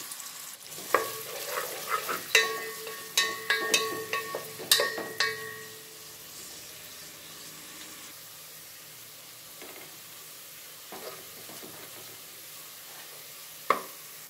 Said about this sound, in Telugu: కట్ చేసి పెట్టుకున్న ఉల్లిపాయలు వేస్తున్నాను. ఇవి ఎర్రంగా వేగాలి.